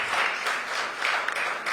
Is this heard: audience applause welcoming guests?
yes